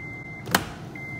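A car's electric power window motor closes the glass with a steady whine, broken midway by a sharp thunk as the window seats, then the motor hum resumes briefly. The sound is close and loud, with no talking.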